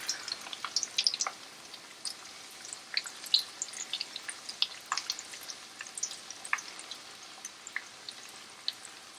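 Panko-coated shrimp frying in hot oil, a steady close crackle and sizzle with scattered sharp pops throughout.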